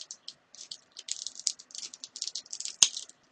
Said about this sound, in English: you can hear there's a lot of clicking going on